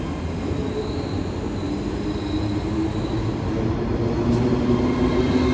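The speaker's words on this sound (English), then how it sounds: "arriving now is a ScotRail service from, I haven't a clue, 385035" A ScotRail class 385 electric unit pulls into a platform at Glasgow Central, a steady rolling rumble of wheels and motors that grows slightly louder toward the end, heard close with no talk.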